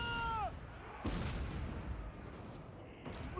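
Mortar artillery fires in the Total War: Warhammer 2 battle, a sharp boom at one second followed by a rumbling decay and a second report near the end, with a brief whistling tone at the start.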